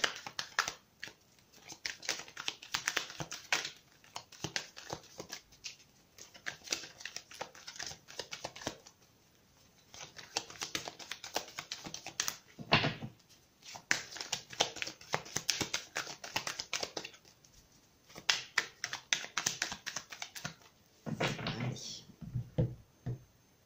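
Oracle mirror cards are repeatedly shuffled and drawn, giving close, crisp bursts of riffling and sliding paper with short pauses between, and no talking.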